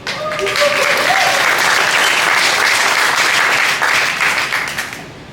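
An audience at a mayoral town hall meeting claps and applauds loudly and steadily, a dense wash of hand claps that fades slightly near the end.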